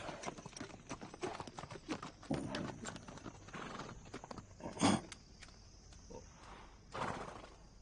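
A horse's hooves clip-clop unevenly across the ground, with scattered knocks and a brief louder clatter midway, close by and with no talk over them.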